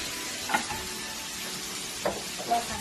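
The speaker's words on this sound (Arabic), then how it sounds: "Now I'm going to add the ground beef." Ground beef sizzling and frying in a pan after onions, with a steady hiss of searing meat and a few brief stirring clinks, heard close with no talk.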